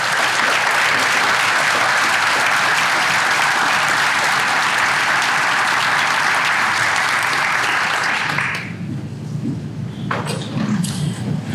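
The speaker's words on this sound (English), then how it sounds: "please stand to receive a round of applause" Sustained applause from an audience at an annual business awards breakfast, greeting the Woman-Owned Business of the Year recipient; loud, steady clapping for about eight seconds, then dropping off abruptly into quieter room noise.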